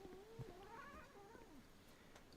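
Cats yowling and caterwauling at each other in a drawn-out fight, wavering howls rising and falling close by, with no talk over them.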